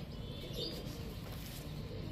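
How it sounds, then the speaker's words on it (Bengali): A red-geared Kagoji pigeon coos softly, a low murmuring call over a steady background hum with faint chirps from other birds in a pigeon loft. "এক জোড়া লাল গিয়ারের কাগজি কবুতর দেখেন"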